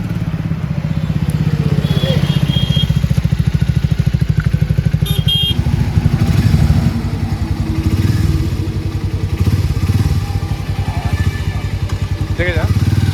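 A Triumph Speed 400 motorcycle engine on a test ride drones loudly and steadily up close for the whole stretch, its throb shifting slightly as revs rise and fall.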